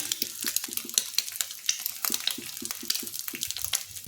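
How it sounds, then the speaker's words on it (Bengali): An egg fries in hot ghee in a pan, a close crackling sizzle broken by quick, regular tapping and scraping sounds. "ঘিটা গরম হলে আরেকটা ডিম ফাটিয়ে এর মধ্যে দিয়ে দিচ্ছি"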